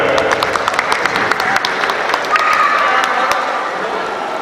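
An audience in a mall event hall applauds a student who answered a quiz question about gases, with dense steady clapping and some cheering over crowd murmur for several seconds.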